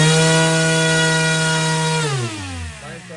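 An RC motor spins a 10-inch three-blade 3D-printed fixed propeller with a loud, steady whine. Near the end it winds down and the pitch drops.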